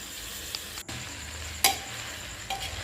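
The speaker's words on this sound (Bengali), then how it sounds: "তারপর সুন্দর করে নাড়িয়ে চাড়িয়ে তার মধ্যে আমি শুকনো করা চালটা দিয়ে দিলাম।" Dried rice being stirred with biryani masala in a pot for mutton biryani, a soft steady sizzle with faint scraping and a couple of light clinks, close up, no talk.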